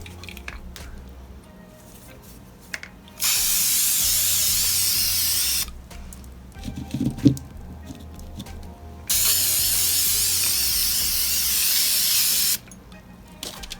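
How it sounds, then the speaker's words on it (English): Two long hissing bursts of a Color Master Cover Max clear coat spray can, each about three seconds, separated by quiet handling noises and a brief rattle. "Just spray it with a good coat of that"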